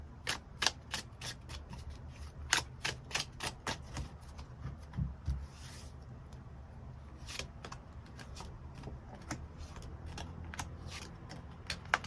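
Tarot cards shuffled and drawn on a table during a Korean love reading, giving a run of close, crisp card snaps and riffles, busier early on and then steadier soft handling, with no voices.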